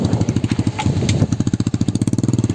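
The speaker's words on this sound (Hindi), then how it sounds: "आप जैन भाई ले आए हैं बाइक, और हसन भाई को बिठाएंगे बाइक पे।" A motorcycle engine runs nearby with a steady, rapid, loud putter, its thumping pulses speeding up slightly partway through as if revved.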